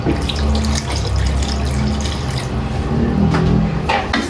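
Water pours steadily from a tap or jug into a cooking container, a continuous splashing gush that fills the whole moment, close and fairly loud.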